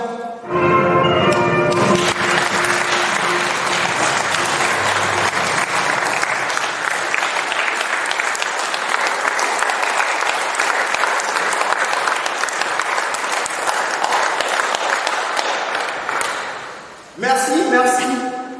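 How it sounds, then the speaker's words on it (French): A theatre audience breaks into sustained, dense applause after a heartfelt French thank-you, the broadband clapping steady and loud for most of the stretch before tapering, with music or voices briefly audible at the start and end. "Merci pour vos applaudissements,"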